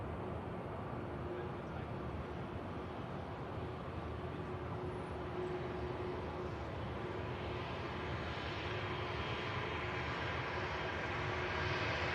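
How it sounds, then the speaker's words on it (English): An Aer Lingus airliner's jet engines spool up while taxiing, giving a steady, broad distant roar that slowly swells. "you can just hear the Aer Lingus spooling up as well to continue its taxi"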